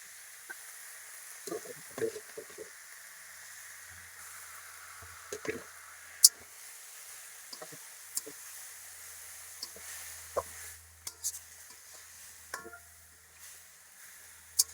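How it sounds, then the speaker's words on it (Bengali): Elancha greens cook in a pan with fried garlic, giving a faint, steady sizzle. Scattered soft squishes and scraping stirs come at irregular moments throughout. "শাক দিয়ে দিলাম।"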